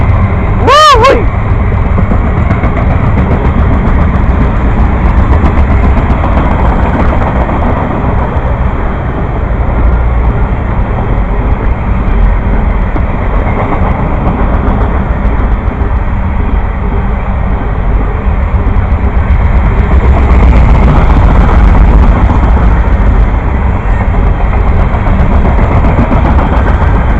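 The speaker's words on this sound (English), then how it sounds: "There it goes, the juice train." The juice train passes at length, a loud, continuous rumble of engine and rolling cars that fills the whole stretch, with a brief tonal horn-like sweep at the very start.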